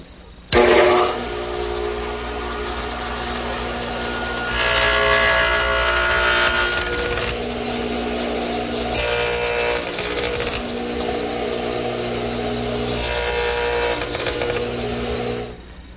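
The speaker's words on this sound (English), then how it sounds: "While the dado head cutter is still in the radial arm, I'm going to make a notch in the partitions for a hanging cleat." A radial arm saw fitted with a dado head cutter hums steadily in a workshop, swelling into three louder, harsher cutting passes as it notches wooden partitions against a high fence.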